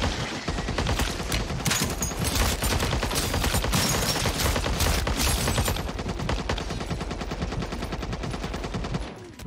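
Sustained automatic gunfire in Call of Duty: Modern Warfare 3, a loud rapid unbroken stream of shots that runs almost the whole time and then cuts off abruptly.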